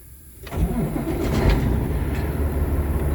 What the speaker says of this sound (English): we're going to start the truck back up